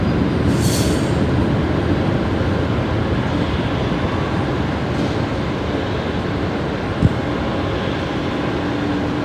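A grain train passing near Brisbane Airport at night, a steady loud rumbling roar of wagons rolling by with a faint squeal and a brief clank near the end, no voices.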